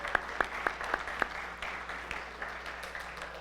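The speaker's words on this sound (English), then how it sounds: "Round of applause." A small audience in a church service claps: a few sharp, distinct hand claps near the start, then thinning into soft, scattered clapping and low room murmur.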